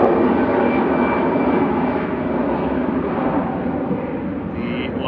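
An airliner roars steadily close by while taking off at Manchester Airport, a broad loud engine rumble that holds for the whole stretch and eases only slightly toward the end.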